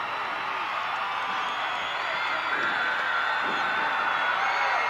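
A wrestling arena crowd roars in a continuous, dense wash of cheering and whoops that stays fairly loud and steady throughout.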